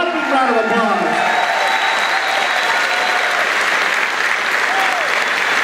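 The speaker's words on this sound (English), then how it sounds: "To a whopping round of applause." Loud, sustained applause and cheering from a large crowd at a dance competition event, dense and continuous for several seconds, with faint shouts and whoops mixed into the clapping.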